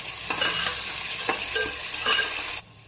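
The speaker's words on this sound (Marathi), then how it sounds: "आता हे मिक्स करून घेऊया व्यवस्थित" Spatula stirring vegetables for Gujarati undhiyu in a sizzling pan, close scraping strokes in an uneven rhythm over a steady frying hiss that cuts off abruptly at the end.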